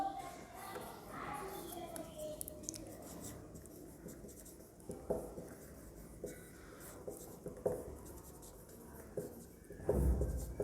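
A pen scratches on paper during a maths lesson, faint, soft strokes coming in uneven bursts. A quiet tonal sound is heard at the start and a louder rub comes near the end.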